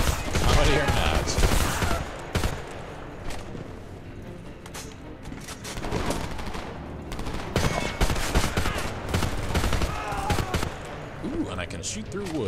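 Repeated gunfire in the video game Homefront, rounds shooting through wood, bursts in loud sharp volleys and scattered single shots with heavy booms, intermittent voices talking over the fighting.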